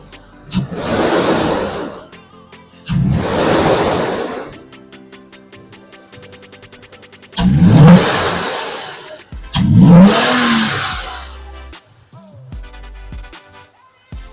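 A Toyota Tacoma 3.5L V6 fitted with a cold air intake is blipped four times. Each rev climbs loudly and falls back to a quiet idle between bursts, heard up close with no talking.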